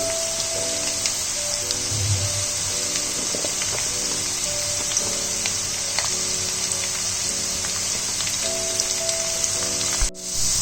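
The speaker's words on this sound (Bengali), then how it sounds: "আলুটা যতক্ষণ ফ্রাই হচ্ছে" Potatoes frying in a pan with browned cauliflower for a vegetarian chorchori, a steady close sizzle with light spattering and occasional stirring clinks, a low musical tone humming underneath, no talk.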